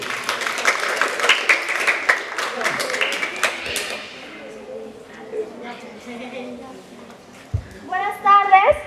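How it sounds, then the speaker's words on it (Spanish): An audience claps for a student at a school tribute ceremony, a sharp burst of applause that fades after a few seconds. Quiet murmuring and shuffling follow, then a voice begins speaking. "Un fuerte aplauso para Grace, Sandy Panduro."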